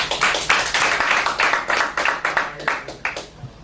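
A small audience claps to cast a vote at a comedy show, a handful of hands producing uneven bursts of sharp claps, near and fairly loud, rising and falling in short waves.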